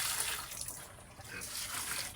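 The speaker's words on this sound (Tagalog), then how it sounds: "lagyan po ng kunting tubig" A little water poured into pig feed, a steady splashing pour that runs for about two seconds with a brief dip midway.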